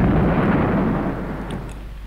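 A dynamite blast in the video game Nightmare Creatures II rumbles low and loud, its decaying boom filling the whole moment with no talk over it.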